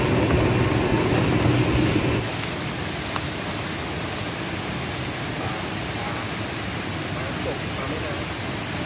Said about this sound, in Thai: เราอยู่ที่น้ำตกเอราวัณแล้ว